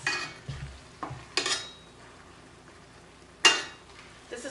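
A tortilla dipped into hot sauce in a pan for huevos rancheros, giving a few short sizzling bursts, two of them sharp and loud, separated by quiet stretches with light clinks of utensil against pan.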